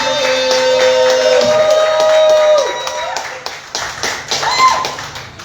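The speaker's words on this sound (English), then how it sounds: "Start clapping it up right now." Applause and claps from a comedy club audience in Orlando welcoming a performer on stage, loud and dense at first, then thinning out into scattered claps and crowd murmur.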